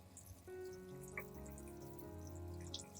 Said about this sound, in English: Finally, I'll rinse the entire orchid under running water.